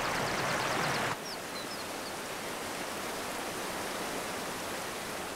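Steady broadband rush of mountain streams and waterfalls in the Hintergebirge limestone range of Kalkalpen National Park. The water sounds continuous and moderately loud, with a few faint bird chirps over it.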